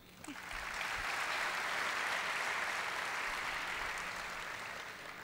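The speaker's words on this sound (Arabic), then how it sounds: "تصفيق." Audience of students applauding during a new-student orientation at King Faisal University, soft, distant clapping that swells in after a brief pause and holds steady before tapering slightly.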